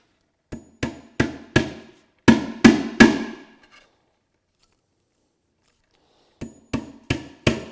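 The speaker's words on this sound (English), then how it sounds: "You don't want to hit the wood with your hammer." A hammer drives nails into wood during a hand-tool bookcase build: three sharp, ringing blows, then three heavier ones, a long pause, and four more close strikes, with no talk.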